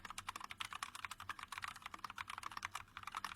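Fast, steady typing on an Ajazz NK68 budget gaming keyboard, a dense close-up clatter of keystrokes that runs continuously with no talking.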